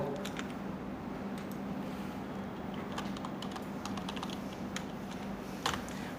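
Quick steady keystrokes on a computer keyboard as a design search is typed, a continuous patter of soft clicks over a constant background hiss.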